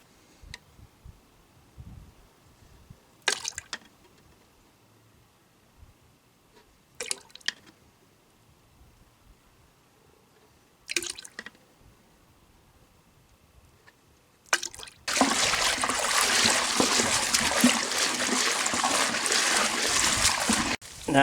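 Water fills a tub for a fur degreasing solution: scattered drips and small splashes first, then a loud, steady rushing pour of water over the final few seconds.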